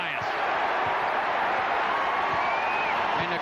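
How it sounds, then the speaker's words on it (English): Crowd roar at Cole Fieldhouse during a 1986 college basketball game, North Carolina at Maryland, a dense sustained cheer filling the arena with a commentator's voice running over it and faint shoe squeaks beneath. "And the crowd once again comes to its feet here at Cole Fieldhouse."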